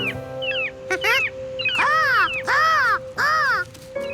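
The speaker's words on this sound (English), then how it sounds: "Well, yeah, seagulls." Cartoon seagulls call out at sea in a Curious George scene, a run of loud, arching squawks that repeat several times in quick bursts over about four seconds, close and clear with no talking.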